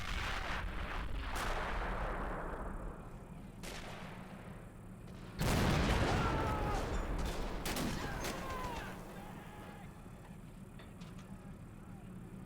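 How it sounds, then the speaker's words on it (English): Mortar explosion in a WWII battle video game set in Italy, a sudden loud blast at mid-clip followed by rumbling debris, amid scattered distant gunfire and battlefield noise. "mortar, of course"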